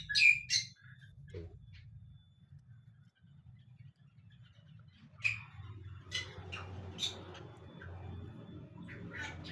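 Scattered bird chirps and squawks ring out in short bursts over a steady low hum in an aviary, some calls close and sharp, others fainter in the background.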